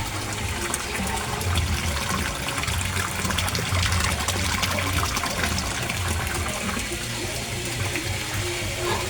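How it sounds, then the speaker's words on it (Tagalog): Powerful water pump churning up bubbles in a koi fish pond, heard as a loud, steady rush of gushing, bubbling water up close. "sa sobrang lakas ng water pump ko, yung water pulse ko, ang dami-daming bubbles na naproduce niya"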